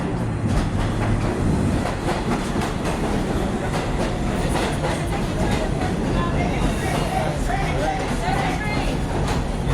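A D train on the New York subway at Bay Parkway rumbles and clatters loudly with rhythmic wheel clacks and faint squeals, voices murmuring beneath the din.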